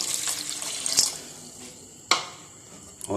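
Water splashes and trickles into a cooking pot holding ketchup or tomato puree for chicken manchurian, coming in short, uneven bursts with a couple of sharper splashes, moderately close and with no talking.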